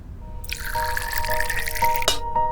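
Water is poured into a glass for drinking, a steady close stream with a rising, filling tone and a few splashy drips near the end.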